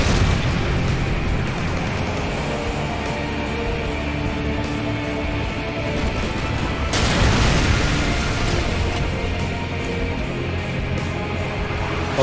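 A loud explosion goes off midway through combat in the video game Call of Duty Modern Warfare 2 during a special operations mission, a broad boom that rises out of a dense, constant wash of game noise.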